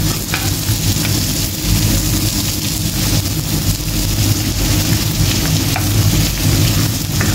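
Boiled potatoes sauté with rosemary and garlic in a pan, giving a loud, dense and steady sizzle with stirring sounds throughout and no one speaking.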